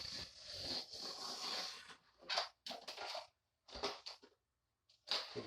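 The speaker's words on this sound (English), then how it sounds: "So if you just cut this template out" Scissors cutting out a paper mounting template for a towel bar, close and quiet: a long rustling stretch followed by short separate snips and scrapes with pauses between.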